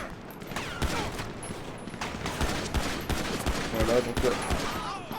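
Gunfire in the video game GTA 5, a dense burst of repeated shots running throughout at steady loudness while someone talks over it.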